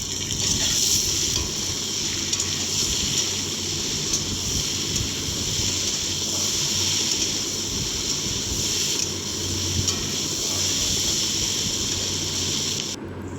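Chopped onion and green chili fry in a pan with a steady, even sizzle that holds for the whole stretch without a break.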